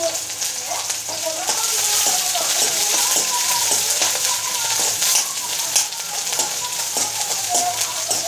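Mild green chillies fry in hot oil in a pan for masala rice, giving a steady loud sizzle with crackling and occasional stirring, and faint talk in the background.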